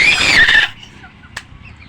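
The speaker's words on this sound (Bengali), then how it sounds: "ছোট ভাই মুরগিরে কিভাবে খাওয়াইতেছে চাইল, দেখেন" A backyard hen being hand-fed rice grains gives a brief, sharp, high squawk, then goes quiet except for faint rustling.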